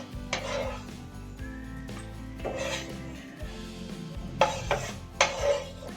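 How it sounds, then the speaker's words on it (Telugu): Fried dry fruits are scooped out of a kadai onto a plate, giving repeated scraping and metallic clinks of a spoon on the pan, with a few louder knocks near the end. "గోల్డెన్ బ్రౌన్ కలర్ వచ్చిన తర్వాత తీసి ఒక ప్లేట్లో పెట్టుకుందాం"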